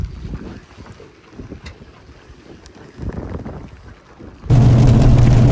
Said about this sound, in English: The whole lake is real windy and rainy.